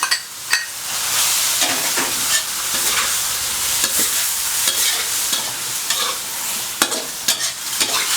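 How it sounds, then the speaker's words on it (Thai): Fish balls stir-fried with holy basil leaves in a hot pan, a loud sizzle with repeated spatula scrapes and taps against the pan, no voices. "ก็ผัดจนกะเพราสลดนะครับ"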